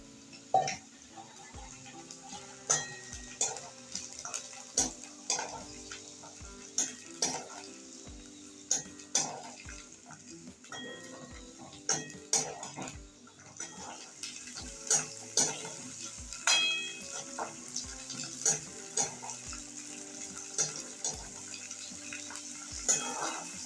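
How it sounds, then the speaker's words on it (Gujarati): Cowpeas fry in oil in a pan beside potatoes, a constant low sizzle broken by frequent sharp clinks and scrapes of a spatula stirring against the metal, no voices. "તો આપણે ચોળીને પણ અંદર નાખી અને થોડીક નરમ થાય ત્યાં લગી શેકી લેશું"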